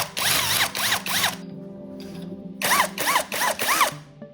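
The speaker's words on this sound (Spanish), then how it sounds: "perforamos con una broca de 1/4" A power drill with a 1/4 inch bit bores holes, sounding as repeated short whirring bursts close by, three quick pulses, a pause, then four more, with a low hum underneath and no speech.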